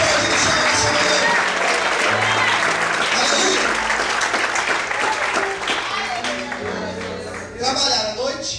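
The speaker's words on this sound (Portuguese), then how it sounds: "Você pode aplaudir o Senhor nessa manhã?" A church congregation applauding during a Sunday morning service, loud sustained clapping and cheering from a crowd, with voices calling out amid the claps before it gradually fades.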